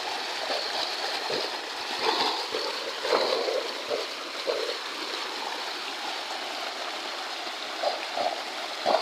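Borewell water pours from a pipe column into a village tank, a steady rushing splash that runs throughout with small surges and gurgles, fairly close and continuous.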